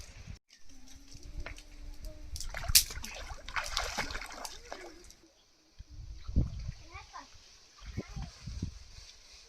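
River fish being washed in water outdoors with family, with scattered splashes and trickling under people talking nearby.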